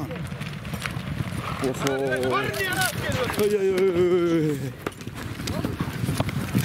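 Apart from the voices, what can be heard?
horse hooves clip-clopping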